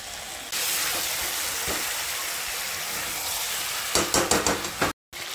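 Water poured onto chicken frying in a pan for a thin chicken curry, a loud broad sizzle and hiss that holds steady, then flares into crackling spurts near the end before cutting off.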